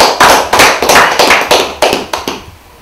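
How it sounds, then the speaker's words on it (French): An audience at an award ceremony honouring a Congolese film director claps in about eight crisp, regular bursts. The claps are close and loud and fade at the end. "vous pouvez applaudir"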